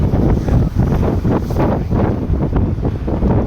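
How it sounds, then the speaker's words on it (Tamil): Strong wind buffets the microphone in loud, rumbling gusts that surge and ebb continuously, with no talk. "பயங்கரமான காத்து வீசுது"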